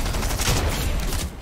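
Gunfire in the video game Fortnite, a dense, continuous fusillade of rapid shots that stays loud and unbroken through the whole short stretch, with no voices.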